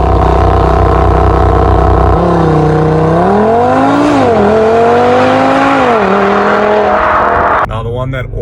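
A 2018 Audi RS3 engine revs loudly and close, its tone climbing and dropping through quick downshifts and upshifts over several seconds, with a voice talking over it before cutting off abruptly.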